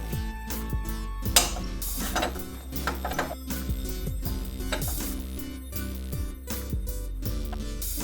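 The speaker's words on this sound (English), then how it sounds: "Then it says remove the sensor using a 22 millimeter wrench." A 22 mm wrench works at the oxygen sensor on a BMW E30's exhaust, making quiet metallic clicks, ratcheting ticks and clinks in an irregular rhythm throughout, up close, with no talk.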